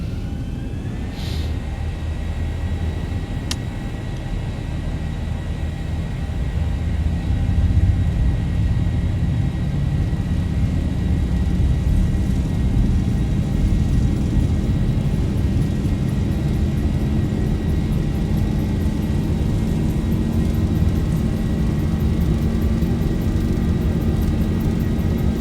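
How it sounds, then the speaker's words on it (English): Jet airliner engines spooling up to takeoff thrust in a flight simulator, a steady loud rumbling roar with faint whining tones that slowly rise in pitch as the run continues, with no voices. "set takeoff thrust"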